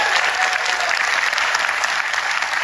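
A large audience at an RCM corporate gathering breaks into sustained, loud applause, a dense, even wash of clapping that holds steady throughout with no voices over it.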